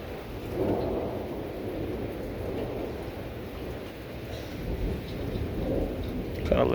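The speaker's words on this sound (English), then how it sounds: "Got an electrical storm." Electrical thunderstorm in Reno, Nevada, with steady heavy rain and a low continuous rumble of thunder that swells near the end, loud and close throughout.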